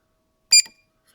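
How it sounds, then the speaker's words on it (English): A single short electronic beep from the buzzer of a diagnostic gadget for Mazda MX5/Eunos Mk1/2 cars, a bright chirp with a quick second pip, alone in silence. "this lets us switch the buzzer on or off so you don't have to have the sounds"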